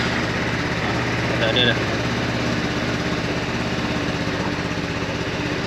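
A Modenas Elegan 250 scooter engine runs at a steady, fairly loud idle throughout after a fresh battery change, while someone speaks briefly over it.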